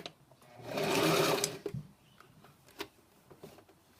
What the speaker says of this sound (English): And then start sewing.